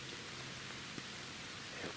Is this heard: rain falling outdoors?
yes